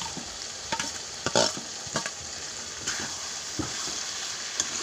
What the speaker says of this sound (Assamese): ইয়াত মই এতিয়া পচলাখিনি দি দিম।